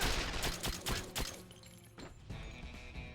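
Gunfire in the PS2 game 007: Quantum of Solace, a rapid burst of several sharp shots in the first second and a half, then quieter game ambience with a couple of softer later impacts.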